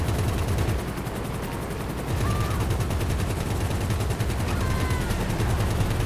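Gunfire in Grand Theft Auto V, dense rapid bursts of shots rattling continuously over a low rumbling engine-like drone, loud and sustained with brief lulls.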